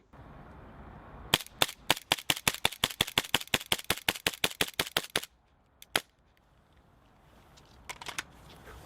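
A Secutor Bellum X CO2 gas blowback pistol fires a fast string of about twenty sharp, evenly spaced shots, followed by a couple of isolated shots after a pause, loud and close in a quiet setting.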